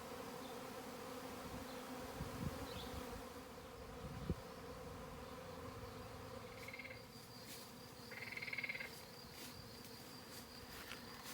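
A swarm of wild bees buzzing around a tree gives a steady, low, droning hum throughout, fairly faint and distant, with a few louder passes nearby and no talking.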